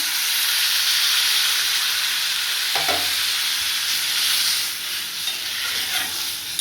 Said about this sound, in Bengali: এবার এটা কষে নিয়েছি মশলার সাথে এবার জল দিয়ে দিচ্ছি